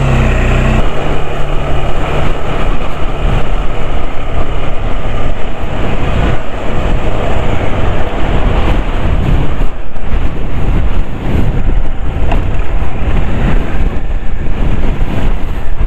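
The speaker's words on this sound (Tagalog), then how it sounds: "Grabe lakas ng hangin." Strong, gusty wind buffets the microphone at a ferry port bound for Masbate during a solo motorcycle trip in Southern Luzon, a loud continuous roar with low rumbling throughout.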